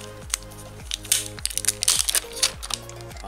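Plastic bag being unwrapped from a Dell Chromebook 5190 laptop charger cable, close crinkling and crackling in uneven bursts over a faint background hum.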